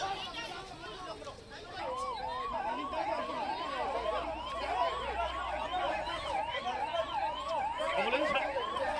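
An ambulance siren wails in rapid rising-and-falling sweeps, fairly close and steady, over crowd chatter and street noise.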